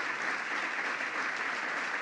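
Audience applause in a hall at a presidential event on reauthorizing the Violence Against Women Act, a steady, dense wash of many hands clapping at even loudness throughout, with no pause.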